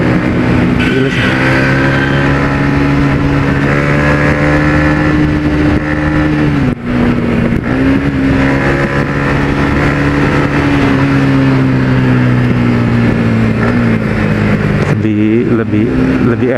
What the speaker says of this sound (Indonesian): Coba gue langsung buka gas ya di gigi 3.